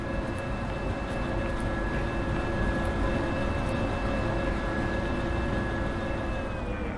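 A locomotive in the VR train game Derail Valley builds speed as the throttle opens. A loud, steady engine rumble runs throughout, with thin whining tones over it and no voices.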